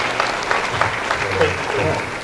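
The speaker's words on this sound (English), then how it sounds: "can we give a round of applause to our new NAMM CEO?" Audience applause at a NAMM show media event for the music industry, a short steady burst of clapping mixed with faint voices, fairly close and continuous.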